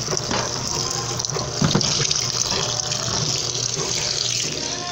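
Water pouring and gushing into a washing machine tub to be reused, a continuous steady splashing flow lasting throughout, close and fairly loud with a low machine hum underneath.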